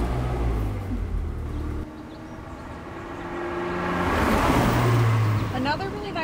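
A Ferrari 360 engine turns over and catches, its idle swelling louder and settling into a steady hum with a brief whine near the end, heard fairly close with no talk over it.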